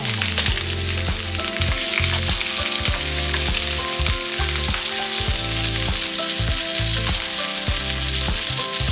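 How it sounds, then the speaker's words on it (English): Lamb and herbs sizzle loudly in a frying pan with a dense, constant crackle and spit, punctuated by regular scraping knocks as the pieces are stirred around the pan. "those are going to get mixed around the pan and toast up as we cook our lamb"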